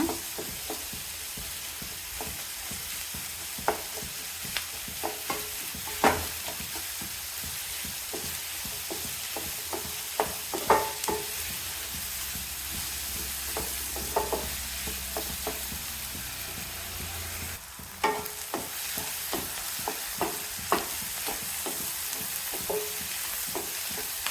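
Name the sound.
shallots sautéing and being stirred in a pan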